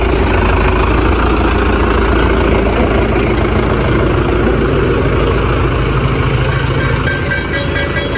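A newly bought tractor's engine idles loud and close, a steady low rumbling drone with no break, in a village.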